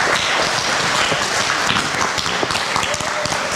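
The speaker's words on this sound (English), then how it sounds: "If you guys will clap for Mr. Roy and Miss Judy." An audience claps to welcome a couple invited up to a couch on stage at a community gathering. The applause is dense and steady throughout, with voices mixed in under it.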